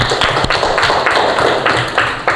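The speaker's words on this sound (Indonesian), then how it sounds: "Suaranya, tepuk tangannya" A group applauds during a classroom teaching performance test, with loud, dense, continuous clapping and sharper individual claps rising out of it, close and filling the room. A voice can be heard faintly under the clapping.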